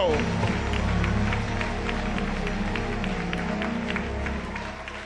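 A church congregation applauds during a pastor's sermon, a broad steady wash of many hands clapping together that fades slightly toward the end, with voices faintly mixed in.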